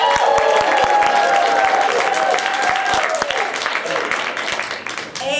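A live audience at an improv comedy show votes for a scene title with sustained applause and a few cheers, loud and continuous at first and gradually thinning toward the end, with a voice speaking partway through.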